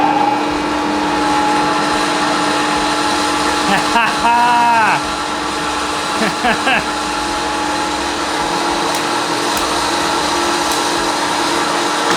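Old workshop machine in a shop running steadily on its electric motor with its wheels turning, a constant hum with a brief louder surge of whirring partway through.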